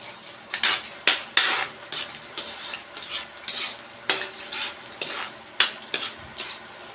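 Garlic frying in a pan under a steady sizzle while a utensil stirs it, with repeated scraping clacks against the metal at an irregular pace, close and fairly loud.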